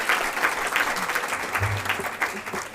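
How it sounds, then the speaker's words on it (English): Clapping breaks out during a Board of Education regular meeting, a moderate patter of hands from a modest audience that carries evenly under a low murmur. "That was my pause for applause."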